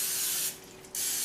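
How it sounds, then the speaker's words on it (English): A steady hiss of cooking spray onto a baking tin, broken by a short pause midway, then resuming. Close and fairly loud, with no voices. "gotta spray our tin."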